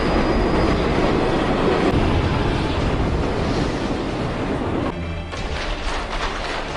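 A train rumbles past up close, a loud continuous roar with rhythmic rail clatter, shifting in tone near the end as it moves away.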